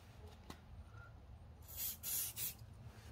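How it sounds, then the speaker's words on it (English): Three short hissing bursts from an aerosol can of 3M specialty adhesive remover sprayed onto a 2004 Audi A4, close up, after a quiet stretch with a faint tap. "Now I'm going to use this 3M specialty adhesive remover to hopefully remove the rest of that."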